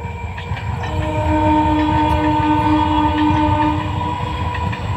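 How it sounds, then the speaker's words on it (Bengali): A passing train rumbles steadily and loudly nearby, with a sustained horn tone running through most of the passage and faint wheel clatter beneath, no voices over it. "সেই দেখো ট্রেনটা যাচ্ছে"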